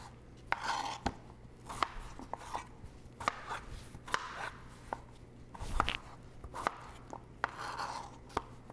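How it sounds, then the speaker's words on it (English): A knife chops potatoes into roughly one-inch cubes on a cutting board, a steady series of crisp, close knocks at an uneven pace, with a low hum underneath. "I'm going to go ahead and cut my potatoes. We're just going to cube it."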